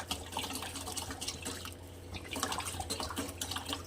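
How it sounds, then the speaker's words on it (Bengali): Water poured into a pot of cooking matar dal, a steady close splashing trickle with bubbly liquid sounds running throughout, no voices. "আমি এখানে আরেকটু জল দিয়ে দিলাম।"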